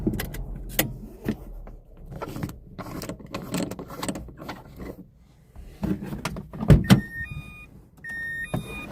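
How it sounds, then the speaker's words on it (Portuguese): A parked car is switched off and its driver gets out at night in a small square in Aracaju, Brazil, with mechanical clicks, rustling and a door thump, then a series of electronic beeps toward the end. "Vou desligar o carro, vou sair do carro aqui,"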